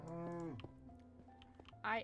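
Cattle mooing in a Minecraft-style survival game, a long low moo opening the clip followed by quieter animal calls, then a brief louder higher sound at the end.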